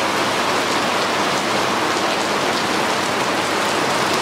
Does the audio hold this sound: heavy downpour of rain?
yes